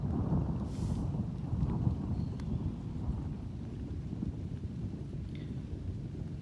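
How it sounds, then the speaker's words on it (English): A thunderstorm moves in over a campsite with a tarp shelter, bringing a steady, loud low rumble of wind and rain buffeting the microphone, with faint distant thunder throughout and no talking. "Well, here it comes, folks, the thunderstorm."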